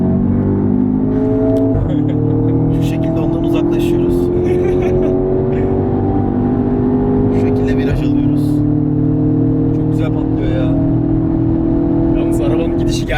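A new Audi TT's engine drones steadily from inside the car while driving fast on the road, its pitch rising slowly with acceleration, with voices talking over it.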